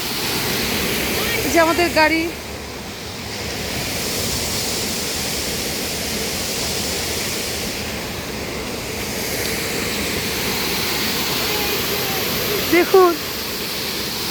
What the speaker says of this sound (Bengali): দেখুন সেই ওপর থেকে ঝর্ণাটা পড়ছে, সেই ওপর থেকে, আর এভাবেই যাচ্ছে